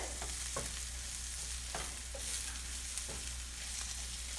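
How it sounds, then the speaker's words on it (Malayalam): Spice powders and garam masala roasting with onions in a pan for a Kerala egg curry, a soft steady sizzle broken by light scraping stirs, close and quiet, with no talk. "ഈ പൊടികളെല്ലാം നന്നായി ഒന്ന് മൂപ്പിച്ചെടുക്കണം ഈ ഉള്ളിയുമായിട്ട്"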